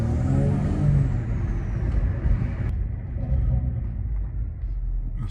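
A BMW 330i with the B48 four-cylinder engine cruises in comfort mode at light throttle, giving a low, steady rumble with road noise, fairly loud and continuous, with no talking.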